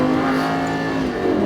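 Lamborghini Gallardo LP560-4 engine pulling hard at full throttle on a drive, a loud, close, steady roar that rises slightly in pitch with no talk over it.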